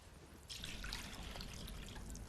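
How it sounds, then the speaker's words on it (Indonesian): Water poured into a basin, a steady splashing trickle that starts abruptly after a brief quiet moment and continues close by, with no voices. "Lalu ia menuang air ke dalam sebuah baskom"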